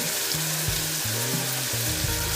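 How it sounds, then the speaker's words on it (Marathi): Chopped tomato sizzles steadily in hot oil in a pan, a dense, close frying hiss running throughout, with faint scraping of a spatula under the crackle. "मिक्स करायची टोमॅटो मऊ होईपर्यंत परतवून घ्यायचा"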